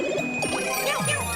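Super Bell pickup in Super Mario Maker 2: a short bright chiming jingle with sliding tones over game music, heard alone.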